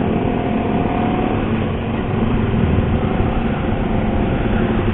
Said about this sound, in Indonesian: kita akan tes drive menggunakan CBR 250 ya guys